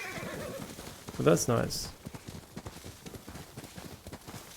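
A horse in a video game whinnies loudly once, with hooves clip-clopping under it and afterward, while a person speaks over the scene.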